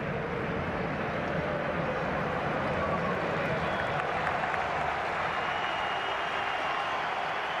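A stadium crowd at a Slovakia versus Spain football match applauds Alvaro Morata as he goes off, a dense, even wash of clapping and cheering from afar that continues steadily throughout.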